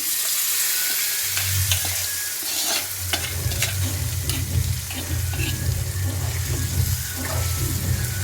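Chicken pieces for a chicken curry fry in a pan with a steady sizzle while being stirred, scraping and clinking continuously throughout.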